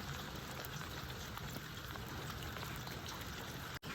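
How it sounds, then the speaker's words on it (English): Rain falls outside in a continuous soft hiss of drops, steady and faint throughout with no voices. "It is a very rainy day today."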